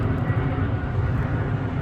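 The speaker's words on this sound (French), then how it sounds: "il y a un avion qui passe, peut-être pas très agréable pour les oreilles" A fixed-wing airplane passes overhead near a parked 2017 Renault Kangoo compact, a steady broad low roar filling the whole clip at fairly loud level.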